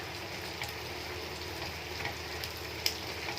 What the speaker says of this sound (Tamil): இன்றைக்குள்ள சாப்பாடு ஈரல் பொரிச்சிக்கிறேன்